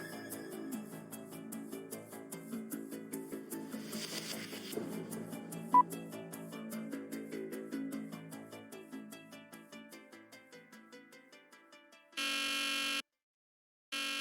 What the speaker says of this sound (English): This was not what I expected when I set the alarm.